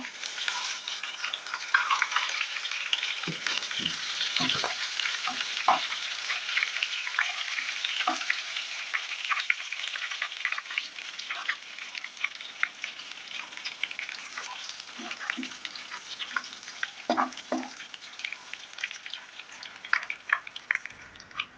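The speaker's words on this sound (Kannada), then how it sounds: "ಫಸ್ಟ್ ಜೀರಿಗೆ ಫ್ರೈ ಮಾಡಬಗ ಜೀರಿಗೆ ಪಾಡಿ ಬೊಕ್ಕ ಬೇರು ಸೊಪ್ಪು" Cumin seeds and curry leaves frying in oil over a low flame for egg bhurji, a loud, continuous close sizzle with occasional soft stirring knocks throughout.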